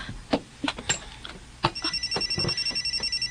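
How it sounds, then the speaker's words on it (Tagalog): A telephone rings for an incoming call in a Cebuano radio drama, a repeated electronic ring pulsing steadily in the second half after scattered clicks and handling noises at the start. "Si Ma'am Erika kaning nanawag"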